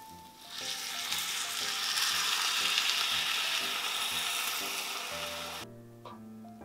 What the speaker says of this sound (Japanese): じゃあスープ入れます。